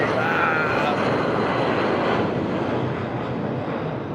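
An American Airlines Boeing 717 airliner passes with a loud, steady broadband engine roar that fills the whole stretch, slowly easing slightly toward the end, with faint talk mixed in.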